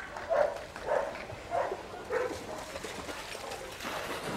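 Dogs at a public swim give a run of four or five short yips and whimpers, evenly spaced and moderately close, over a soft background murmur.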